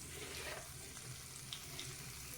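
Mustard seeds, urad dal and curry leaves frying in hot oil, a faint steady sizzle with a few soft pops, heard alone.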